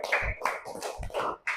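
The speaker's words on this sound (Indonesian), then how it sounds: "Oke, tepuk tangan." A classroom group applauds after two students, Ligar and Rara, finish a lesson on dhuha prayer, giving a short burst of close, dense hand clapping that swells and fades in waves, with no talking.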